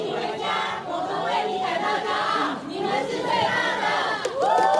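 A crowd at an airport cheers and shouts continuously to welcome returning Olympic athletes, with the lively mass of voices filling the scene at moderate loudness.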